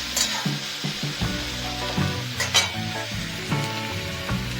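Prawn cutlet mixture sautéing in a frying pan, a loud close sizzle punctuated by repeated scraping stirs of a spatula against the pan.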